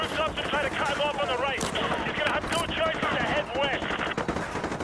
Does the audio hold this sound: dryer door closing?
no